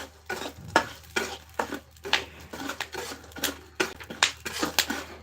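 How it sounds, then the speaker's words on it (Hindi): Maize kernels roast in a pan while being stirred, giving repeated scraping and rattling bursts in an uneven rhythm over a faint low hum, close and moderately loud. "मैं भून रही हूँ मक्का"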